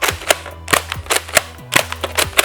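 A Nerf dart blaster is primed back and forth, making a rapid series of sharp plastic clacks and snaps in close, uneven pairs near the microphone.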